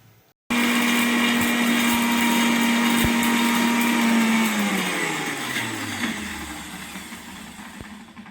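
A mixie grinds moringa leaf powder with lentils, cumin, pepper and tamarind in a loud, steady high whir for about four seconds. The motor then winds down and slowly fades.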